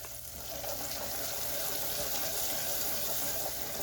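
Butter sizzling as it is stirred into hot caramel for homemade Samoa cookies, a steady, close hiss with faint stirring that runs unbroken throughout.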